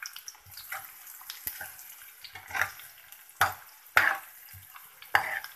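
Cumin and chopped onion going into hot cooking oil for tinda curry: a quiet background hiss broken by several sharp sizzling bursts and stirring clatters, close and uneven, no voices.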